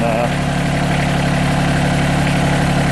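A tractor engine idles loud and close, holding a steady low rumble throughout with no talking over it.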